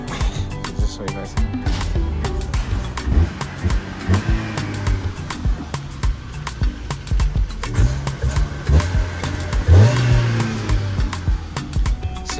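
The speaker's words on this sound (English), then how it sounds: "Let's give you guys a rev quickly, something that I don't do quite often." Engine of an Opel bakkie revving up and settling back while parked, a steady mid-pitched drone with a couple of throttle blips, close and fairly loud, with some background noise.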